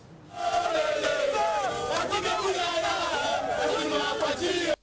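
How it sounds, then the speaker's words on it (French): Large crowd gathered outside a government communication minister's residence cheering and chanting loudly, many voices overlapping in rising ovation, continuous and close for nearly five seconds before cutting off. "Ce sont les ovations d'un peuple à son ministre de la Communication immédiat"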